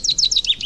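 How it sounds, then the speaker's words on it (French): A chaffinch sings close and clear, a brisk run of about six bright, descending high chirps that follow one another quickly with no other sound. "le pinson"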